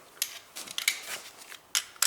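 A wrench loosens bolts on the engine of a 2002–2009 Toyota Prius during a spark plug change, making sharp, irregular metallic clicks and ratcheting snaps, close up, with quiet pauses between bursts.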